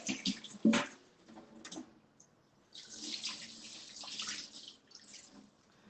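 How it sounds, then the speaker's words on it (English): Hands are washed under a running kitchen tap, the water splashing in bursts with brief pauses and scrubbing sounds, fairly close and moderately quiet. "I'll just better wash my hands here."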